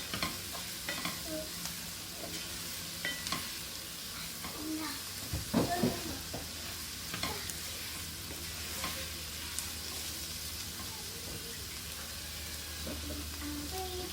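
Red and green peppers and minced meat simmer in a pan, a constant low sizzle broken by scraping stirs and a louder cluster of spoon knocks near the middle, with no voices.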